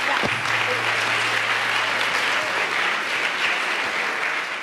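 Steady crowd applause at a talk, many hands clapping together in an even, continuous roar that holds at the same level throughout.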